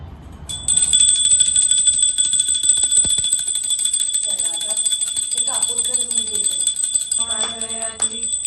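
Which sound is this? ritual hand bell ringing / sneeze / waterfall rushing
ritual hand bell ringing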